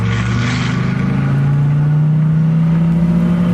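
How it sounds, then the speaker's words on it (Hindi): A car pulls away in a horror cartoon, its engine rising in a steady, loud drone that climbs in pitch as it starts to drive, with no talk over it. "जैसे ही वो गाड़ी चलाने लगती है,"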